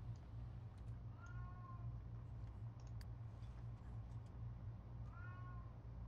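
A house cat in The Sims 3 life-simulation game gives two short, soft meows several seconds apart, over a steady low hum and light clicking.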